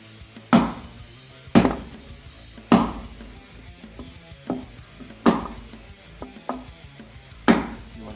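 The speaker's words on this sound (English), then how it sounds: "I use a block of wood and a big sledgehammer." Heavy sledgehammer blows land on a wooden block driving in a bearing buddy, six sharp thuds spaced about a second apart with faint knocks between them, close and loud.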